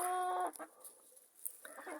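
Bielefelder chickens and roosters in a farmyard in January cluck nearby: a drawn-out, tonal call opens, followed by scattered short clucks and softer fowl noises.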